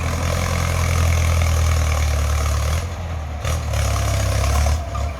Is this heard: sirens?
no